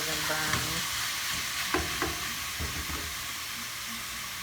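Food sizzles loudly and steadily in a pan over low heat while baked ziti is being made, broken by several clear scraping and stirring knocks. No one speaks.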